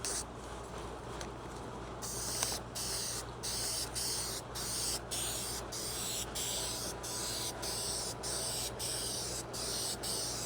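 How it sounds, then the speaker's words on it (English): Spray paint can laying a light dusting coat on a peeling Honda's paintwork, a steady close hiss broken into short rhythmic bursts over faint background hum, with no voices. "Now, we want to do a light dusting first."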